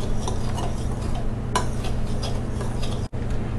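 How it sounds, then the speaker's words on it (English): A utensil stirring dry cupcake ingredients in a large mixing bowl, scraping and clinking steadily and close, with a sharper knock near the middle and a brief dropout near the end. "In a large mixing bowl, you first want to mix all your dry ingredients."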